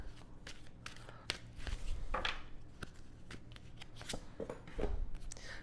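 Tarot cards shuffled by hand in a quick run of crisp riffling snaps and soft slides, close and fairly quiet, with no talking.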